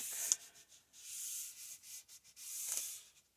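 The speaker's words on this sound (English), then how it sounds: "Rubbing these edges well." Rubbing print edges on a gelli plate with the plastic pusher from an air hockey game gives a close, dry scraping hiss in several long strokes, loud and alone.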